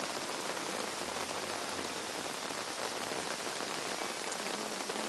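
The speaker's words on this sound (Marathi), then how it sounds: "पहाटेपासूनच मुंबई आणि उपनगरामध्ये पावसाच्या सरी कोसळायला सुरुवात झालेली आहे" Steady rain showers fall across Mumbai, a dense, even hiss of drops striking surfaces, continuous and fairly soft, with no voices.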